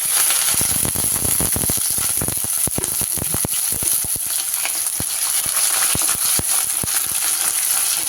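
Garlic, ginger and curry leaves drop into hot oil with fenugreek, setting off a loud steady sizzle with rapid sharp crackles and spits popping throughout, close up and unbroken.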